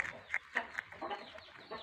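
Hens kept with chicks and eggs give short, clipped clucks in a quick irregular run, close and fairly clear with no other sound.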